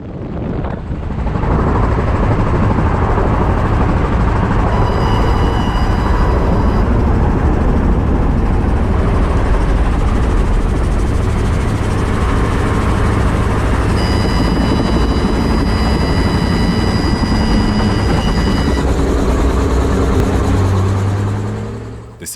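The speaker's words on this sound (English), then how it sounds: "This Robinson R-44 helicopter performing an impressive auto-rotation." A Robinson R44 helicopter performing an auto-rotation: rotor and engine drone continuously, with a whining turbine tone rising in places and wind rushing over the mic.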